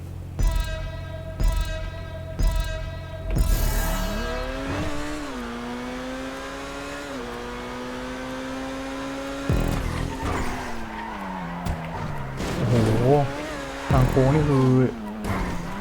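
An Entity MT supercar in GTA V racing around a custom-built test track, its engine revving and rising in pitch through gear changes, with tires squealing and skidding loudly in the later corners.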